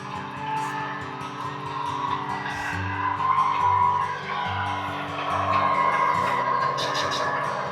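Model train cars roll along a home layout with a steady motor hum, a metallic wheel whine and occasional squeal, plus deeper rumbling bursts partway through.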